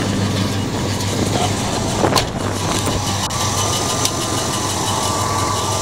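A 1977 Pontiac Trans Am engine idles steadily with a constant low rumble throughout, a couple of brief clicks and knocks in the middle, and no talking.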